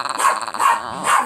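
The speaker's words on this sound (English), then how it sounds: "This puppy is biting me!" A puppy gives a few short, high-pitched yips and barks at close range, coming in three bursts that each end quickly, with no talking.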